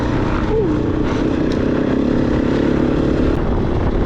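Kove 450 Rallye motorcycle riding on an enduro-style trail, a loud, steady engine drone with wind rush throughout and no pauses.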